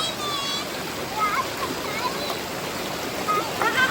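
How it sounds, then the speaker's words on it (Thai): Stream water runs and splashes steadily along the Sarika waterfall trail, a continuous nearby wash of flowing water with voices talking faintly underneath. "ลงไปในลำธารเดี๋ยวมันลื่น"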